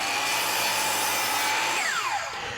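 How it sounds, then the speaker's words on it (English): A miter saw cuts wooden rails and legs for a cart, a loud steady whine of the blade through the wood for nearly two seconds, then the motor winding down as the cut ends. "I can cut all of the pieces that I need to length on the miter saw."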